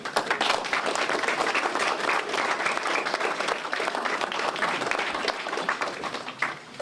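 Audience applause at an evening remembrance ceremony for the Flame of Remembrance, a dense, steady wash of many hands clapping that runs unbroken and fairly loud throughout, tapering slightly at the very end.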